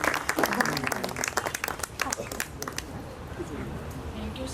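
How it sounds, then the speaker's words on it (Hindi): Applause and clapping from an audience greeting Meenakshi ma'am at a school event, a burst of many hands that tapers off over a few seconds beneath some voices. "A big round of applause for Meenakshi ma'am"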